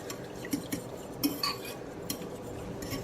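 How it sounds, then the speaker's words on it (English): A fork stirring chia seed pudding in a bowl, several light clinks and taps of metal against the dish amid soft wet swishing, close and fairly quiet with no voices. "We'll use a fork, I guess. Stir it, stir it, stir it."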